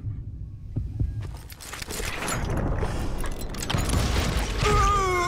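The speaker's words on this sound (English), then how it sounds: "When you hear the heartbeat, you can draw your gun first" A heartbeat warning in the Western shooter Call of Juarez sounds ahead of a duel: low, heavy throbbing under a dense game soundscape with rumbling and clatter, steady and fairly loud, with a rising tonal whine near the end.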